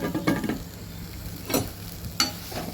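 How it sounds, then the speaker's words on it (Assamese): Lemon paste for homemade dish soap is stirred in a hot wok over low flame: a quiet sizzle underlies three distinct scraping strokes of a spoon against the metal, close by. "কেৰাহীতে এতিয়া নেমুখিনি ঢালি দিম"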